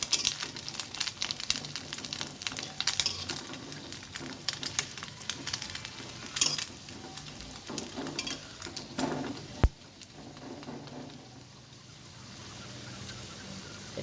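Dal kachori fry in oil with a soft, continuous sizzle. Frequent clinks and scrapes of a utensil against the pan come through, including one sharp knock before the sound settles into a quieter hiss.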